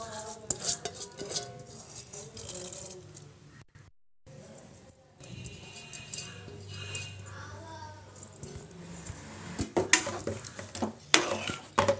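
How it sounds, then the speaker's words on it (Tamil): Soaked basmati rice going into a pot for kuska, with a spoon clinking and scraping against metal, soft stirring and faint sizzling in a quiet kitchen, the clatter growing busier toward the end. "இப்போ இதில் ஊற வச்ச பாஸ்மதி அரிசியை போட்டுடலாம்."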